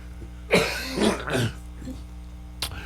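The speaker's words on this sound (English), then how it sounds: "Clear your throat." Someone clears their throat in a few rough, harsh bursts close to the mic, followed by a fainter short rasp after a pause.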